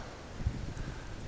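Strong stormy wind in California buffets outdoors with a low, steady rumble and one brief gusty thump against the microphone, no voices.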